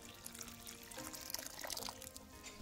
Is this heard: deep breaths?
no